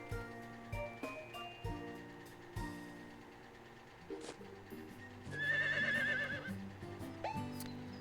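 A horse in the Harvest Moon farming game whinnies in a bright trilling neigh, set among clip-clop hoof sounds and light musical game tones.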